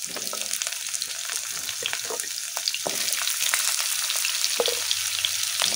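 Vegetable stalks hit hot oil in a wok alongside frying potatoes, giving a steady, close sizzle with occasional sharp pops and light stirring scrapes, with no speech.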